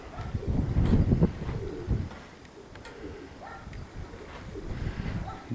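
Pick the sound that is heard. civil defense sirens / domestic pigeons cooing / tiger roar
domestic pigeons cooing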